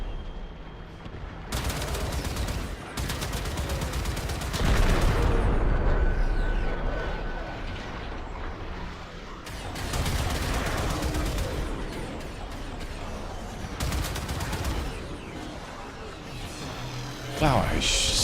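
Bursts of gunfire in the video game Warframe come in sustained rapid volleys separated by quieter gaps, with someone talking over parts of the shooting.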